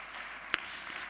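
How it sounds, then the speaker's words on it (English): An audience at a talk on cell therapies and genetic engineering gives a round of applause for the speakers, soft and distant, with one sharper clap standing out briefly. "Round of applause for all the speakers."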